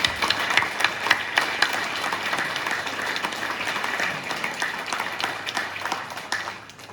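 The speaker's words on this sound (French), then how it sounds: "Nous pouvons les applaudir de nouveau pour leur remarquable quotidien." Audience applauding at a New Year's wishes ceremony in a town hall setting, steady mixed clapping throughout that thins and fades toward the end.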